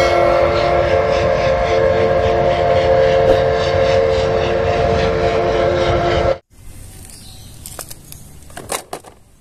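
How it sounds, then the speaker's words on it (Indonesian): A Thomas toy train runs with a steady mechanical whir and whining motor tones for several seconds, then stops abruptly, leaving only faint clicks and handling noises. "Wow, lihat ada kereta api Thomas."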